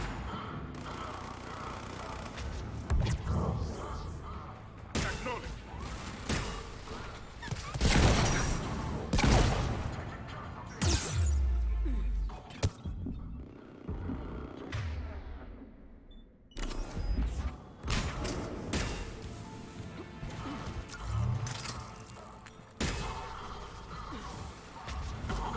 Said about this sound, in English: How many fucking turrets do we need here?